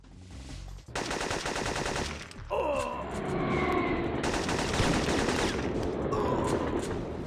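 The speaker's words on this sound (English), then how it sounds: "This adds to the impact of your shots, along with some weapons providing some nice pushback like the shotgun." Gunfire in the PlayStation stealth-action game Syphon Filter: sustained automatic weapon fire in two long bursts separated by a short gap, with game effects and a whooshing sweep in between.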